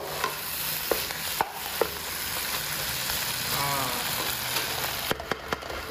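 A spatula scrapes and stirs through chicken sambal sizzling steadily in a pan, with a few sharp knocks against the metal.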